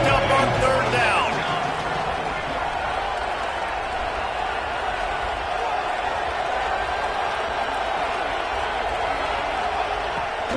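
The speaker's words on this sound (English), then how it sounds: "Crowd getting this defense whipped up on 3rd down." A large stadium crowd in a college football video game, South Carolina versus Ole Miss, roars steadily on third down, a sustained distant wash of cheering and noise without pause.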